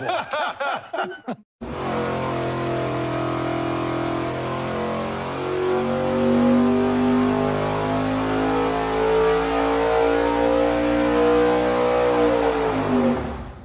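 A V8 race engine fitted with a 1450 carburetor runs on a dyno, rising into a loud, sustained high-rpm roar that holds steady for over ten seconds before easing off, with brief noise at the start.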